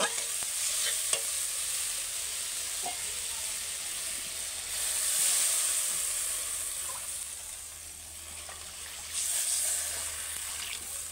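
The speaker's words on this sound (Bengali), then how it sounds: "দেখো মশলাটা কষা হয়ে গেছে, দিয়ে দেবো আমগুলো, দিয়ে এবার জল দিয়ে দেবো" Raw mangoes and water go into a pan of fried spice paste for a snakehead fish curry, setting off a steady close-up sizzle with stirring scrapes and a couple of louder hissing surges.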